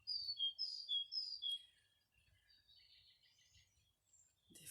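Birds sing outdoors in the sun: a few bright, close chirping phrases repeat quickly at first, then thin out into fainter, scattered calls over a quiet background.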